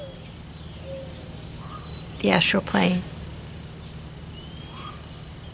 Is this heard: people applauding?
no